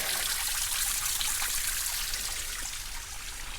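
Stream water trickles and babbles steadily at a backpacking campsite in East Fork State Park, a dense continuous wash of flowing water close by with no voices.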